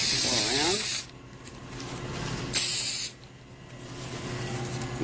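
Glue adhesive sprayed from a fan-nozzle spray gun onto a foam edge: two loud hissing bursts, each about a second long with a pause between, close up over a low workshop hum.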